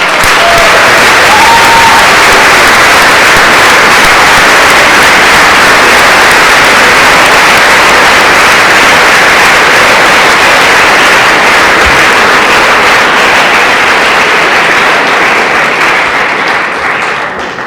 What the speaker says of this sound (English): so if everybody could give her a round of applause.